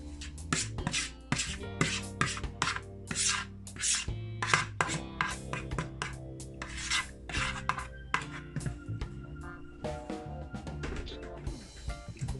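Utensil scrapes Jamaican BBQ chicken and sauce into a pan in a run of close, rasping strokes, uneven in rhythm with short gaps between pushes, with no talking.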